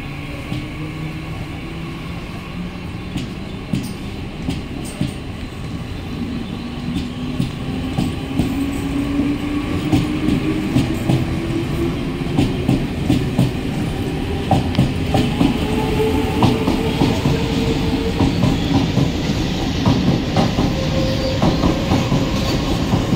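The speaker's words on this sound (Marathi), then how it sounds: "10:33 की मुंबई छत्रपति शिवाजी महाराज टर्मिनस जाने वाली हिंदी लोकल थोड़े ही समय में प्लेटफॉर्म क्रमांक 2 पर आ" A Mumbai Central line local train arrives at a station platform, its wheels clattering and rumbling steadily as it draws in and grows louder.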